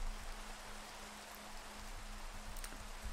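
Soft, steady rain hisses in the video game Minecraft, a low, even wash with faint hum beneath and no talking.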